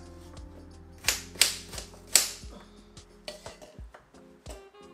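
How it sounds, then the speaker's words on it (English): A knife chops an apple into small pieces on a board, giving a run of sharp, irregular knocks, with the loudest cluster in the middle, over a steady tonal background. "we're just going to simply cut them up small, just like this"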